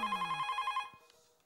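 A telephone rings in a fast repeated electronic trill for about a second, then stops. A short clunk follows, like a handset being picked up. No one speaks.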